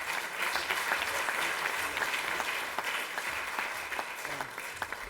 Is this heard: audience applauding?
yes